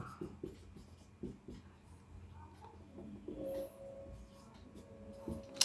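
Pen scratching out an equation on paper during a physics problem session, soft intermittent strokes and taps at close range, fairly quiet, with a faint high tone and light room noise behind.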